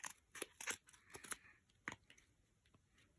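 Scissors snipping a piece off a homemade cardboard vending machine, a quick run of close, crisp cuts followed by a few fainter snips.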